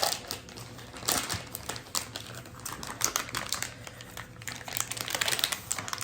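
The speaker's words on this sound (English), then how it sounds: "if you've never used prosciutto before, there's usually a little spot where you can peel" Prosciutto slices are peeled apart from their plastic package, giving close crinkly rustling and small tearing crackles in irregular bursts, with no voices.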